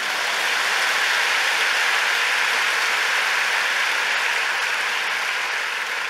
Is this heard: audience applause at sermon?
yes